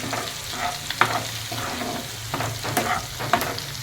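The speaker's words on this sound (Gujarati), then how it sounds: "હવે આમાં આપણે પેસ્ટ નાખી દઈએ લીલા મરચાંની, લસણની અને હલકા બ્રાઉન કલરનું થોડું થવા દઈશું આપણે ધીમી ફ્લેમ ઉપર" Green chili and garlic paste fries over a low flame in a pan, a soft steady sizzle broken by a few sharp stirring clicks and scrapes, no voices.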